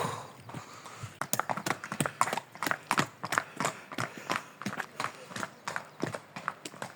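Horse hooves clip-clop on a snowy road in a mountain hill town, with steady repeated hoofbeats from more than one horse, close and fairly loud, and a few faint voices in the background.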